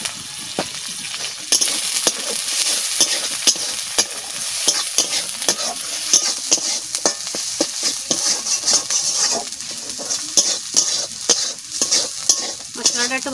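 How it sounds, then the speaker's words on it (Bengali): Spice paste with onion, garlic and turmeric frying in a pan for a chicken and banana-flower curry, with steady bright sizzling and repeated scraping stir strokes throughout, loud and close. "মশলাটা একটু ভালো করে ভেজে নিতে হয়,"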